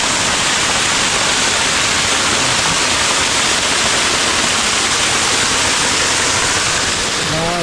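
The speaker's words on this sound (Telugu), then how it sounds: "చూసారా, అద్భుతమైన వాటర్ ఫాల్స్." Katiki Waterfalls near Araku, Visakhapatnam, roars as a loud, constant broadband rush of falling water close by, with a faint voice at the end.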